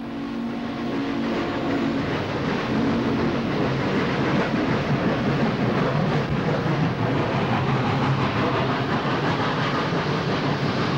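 Norfolk and Western steam locomotive 1218 approaching through a tunnel, heard as a loud, steady, dense rumble with a faint rhythmic rail clatter that holds for the whole stretch.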